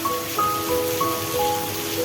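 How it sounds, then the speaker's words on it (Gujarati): Steady rain falls in a village setting, a soft broadband patter that runs evenly through the whole stretch, with faint thin tones drifting above it and no talking. "આજે તમારે અહીં વરસાદ આવી ગયો."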